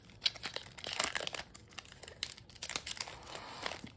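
A Modern Horizons 2 set booster pack wrapper being opened gives close, continuous crinkling and crackling of foil, with sharper rustles and brief tearing bursts throughout.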